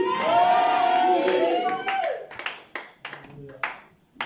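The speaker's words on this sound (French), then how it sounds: "Est-ce que quelqu'un peut crier Jésus?" A church congregation answering a preacher with a loud, sustained wave of shouting voices that fades into scattered clapping and tapping.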